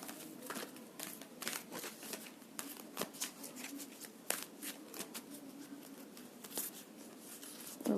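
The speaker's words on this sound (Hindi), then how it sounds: "Let me shuffle for one more time." Tarot cards are shuffled by hand up close, a quiet, steady patter of riffling and sliding cards with small soft taps, going on without a break the whole time.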